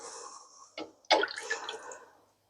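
Soft homemade cream-cheese curds slop into a cheesecloth-lined colander and whey trickles out: a few close, wet plops and splashes followed by brief dripping that fades to silence, with no talking.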